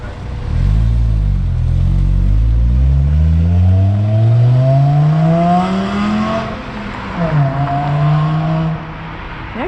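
A VW MK5 Jetta accelerates hard through the gears, its engine and exhaust climbing in pitch, dropping at each shift, then revving again, loud and close.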